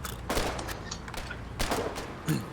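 Machine gun fire in the trench warfare game Foxhole: loud, sharp bursts of shots in short volleys spaced about a second apart, with a steady battle din between them.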